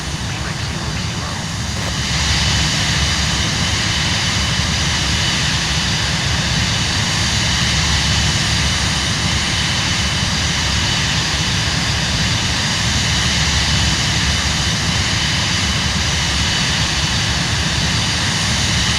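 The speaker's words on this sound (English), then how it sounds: "this is kind of like the easiest jet to fly in this game" Cirrus Vision Jet G2 engine in Microsoft Flight Simulator, a steady loud jet roar holding constant throughout the flight, with a pilot talking over it.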